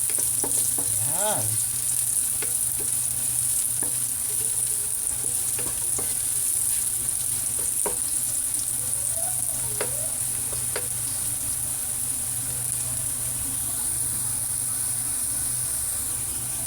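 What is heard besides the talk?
stirring garlic frying in a pan for chicken intestine adobo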